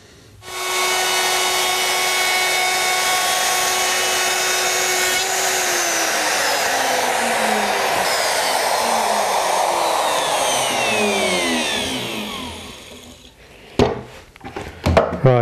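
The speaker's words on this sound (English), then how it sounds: "I've just finished routing a groove in the strip that'll go across the end" A Bosch router cutting a groove along a wooden strip for a chicken coop, a loud steady high whine with shifting tone for about thirteen seconds, winding down at the end into a few knocks and clatters.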